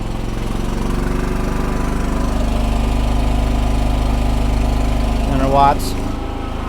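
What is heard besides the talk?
Harbor Freight Predator 5000 generator idling on natural gas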